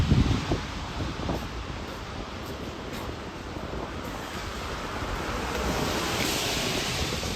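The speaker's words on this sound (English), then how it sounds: "waves. Absolutely waves." Steady roar of ocean waves breaking nearby, a dense continuous wash with some wind buffeting; no voices.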